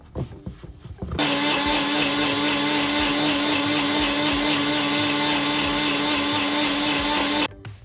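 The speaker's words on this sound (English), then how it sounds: "make sure you're using a high-speed blender" A high-speed blender whirs into a loud, steady roar for about six seconds of a vegan cooking session, then cuts off abruptly, with brief handling clatter before and after.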